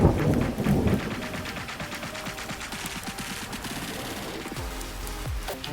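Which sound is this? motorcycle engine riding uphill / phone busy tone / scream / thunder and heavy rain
thunder and heavy rain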